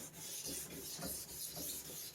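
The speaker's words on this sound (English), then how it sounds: "So this should make it super hazy looking. You're putting a bunch of fine scratches in it," A plastic car headlight lens is sanded by hand to scratch it hazy, giving a rhythmic close rasping rub in back-and-forth strokes with no talk.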